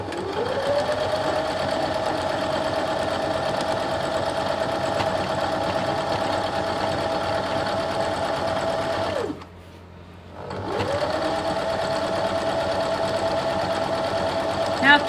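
Sewing machine stitching quarter-inch seams to attach sashing to either side of a quilt block, a steady close, loud mechanical whir that stops briefly near the end and then resumes.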